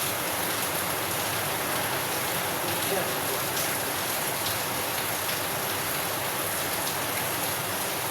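Heavy rain pours down in a dense, even hiss that holds steady and fills the whole stretch, with scattered drips and patters against nearby surfaces.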